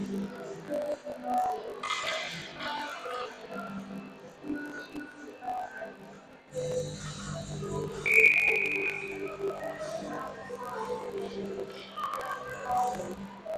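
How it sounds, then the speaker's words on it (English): A referee's whistle for offside at an ice hockey game, one sharp blast partway through, heard over play-by-play commentary and a distant arena crowd. "And we got an offsides whistle to start."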